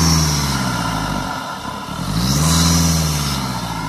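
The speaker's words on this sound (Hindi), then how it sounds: "इस गाड़ी का साउंड सुनाता हूँ, मतलब जो अपना इंजन नॉइज है ना वो सुनाता हूँ" A heavy MG Hector SUV engine with a Stage 1 tune idles loudly up close, dips briefly, then revs up into a deep, throaty roar that holds steady.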